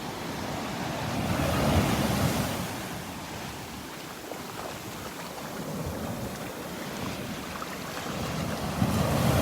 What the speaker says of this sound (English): Listen to those waves, man.